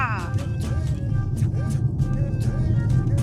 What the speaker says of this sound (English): The BMW i7 is super quiet to drive and uses two motors